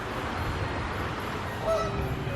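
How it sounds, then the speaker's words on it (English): Geese honk as they come in to land on a river during a winter light festival walk, giving one short, moderately distant call over a steady outdoor background hum. "and the geese come in for a quick landing"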